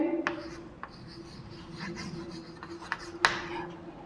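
Chalk or marker writing on a board during a Hindi grammar lecture, with short scratchy strokes and taps over a steady room hum, plus a few faint bits of speech.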